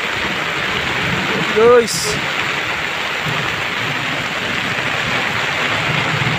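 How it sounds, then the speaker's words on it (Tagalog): Heavy rain pours steadily out at sea in a broad wash, with a brief burst of talk and a short sharp crackle partway through; no distinct thunder rumble stands out. "Lakas yung ulan at kumukulog hangin."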